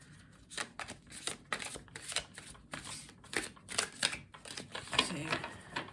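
Rapid, papery riffling of a deck of tarot cards being shuffled several times in short bursts, close up and fairly quiet.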